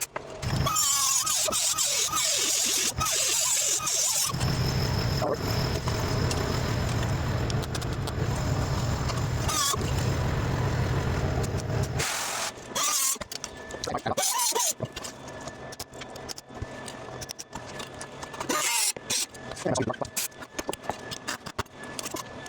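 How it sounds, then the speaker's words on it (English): A cutoff wheel slices through two overlapping layers of rusty sheet metal during rust repair, a loud, sustained grinding whine lasting several seconds, then broken into shorter bursts and pauses. "I'm gonna take my cutoff wheel and I'm just gonna cut through both layers"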